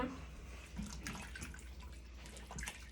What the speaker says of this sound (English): I have to add all the water.